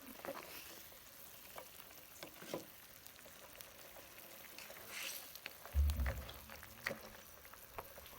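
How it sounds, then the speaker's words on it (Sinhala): Dried game meat simmers in a pan, a soft, low bubbling and sizzling with scattered pops and a faint stirring clatter near the end, quiet and close. "බලන්නකෝ බුබුල බෙදා ලස්සනට ඉදෙන ආකාරය."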